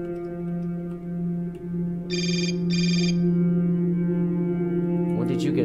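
A cell phone rings in the video game Hotline Miami: two short, bright electronic trills in quick succession over a steady droning synth music bed.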